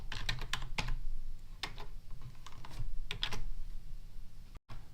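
Computer keyboard typing while coding, close and fairly loud, with quick irregular bursts of keystrokes and short gaps between words, no talking.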